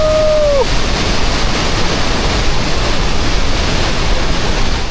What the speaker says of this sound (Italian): Questa è la cascata più assurda che esista!